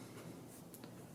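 A broad fountain pen nib glides smoothly across paper with a soft, faint, continuous scratch lasting about a second.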